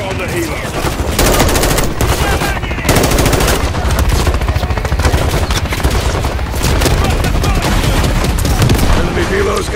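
Sustained rapid machine gun fire from a mounted turret in the video game Call of Duty: Modern Warfare 3, loud and continuous with dense bursts, short pauses and heavy low rumble throughout.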